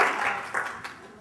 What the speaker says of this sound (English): we'll give him a round of applause for that.